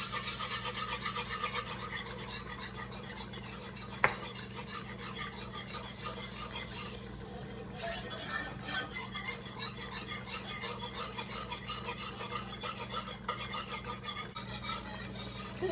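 A whisk scrapes and stirs flour into melted butter in a pot, making a steady, continuous rasping and rubbing sound up close, with one brief sharp tap against the pot partway through.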